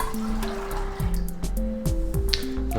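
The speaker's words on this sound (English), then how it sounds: "I'm gonna cover that up with 8 cups of water" Water pours from a container over soaked black beans in a pot, a close, steady splashing fill with bubbling glugs that shift as the level rises.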